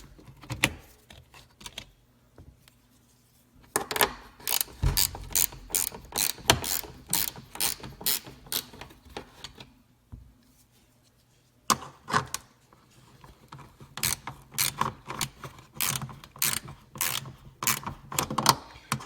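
A hand ratchet fitted with a 10mm deep socket clicks in rapid repeated bursts, up close, removing nuts from the tail light assembly of a 1996 Buick Park Avenue, with short pauses between runs.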